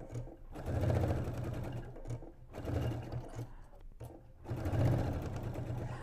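A PFAFF sewing machine stitching patchwork triangles, running in three bursts of rapid mechanical needle chatter with short pauses between, close and clear with no talking.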